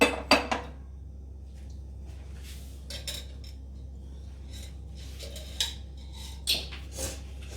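A few sharp metallic clanks and scrapes of a cooking pot being moved on a kitchen surface, scattered across a quiet background hum, with no talking.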